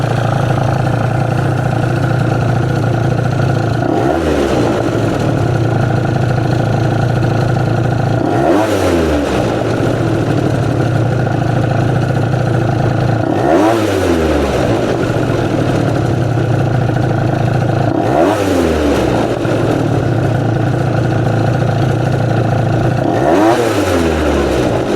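A scooter engine idles steadily after idle adjustment, loud and close, with a short throttle blip roughly every five seconds that rises and falls before settling back to a smooth idle.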